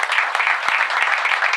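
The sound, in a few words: audience applause at a concert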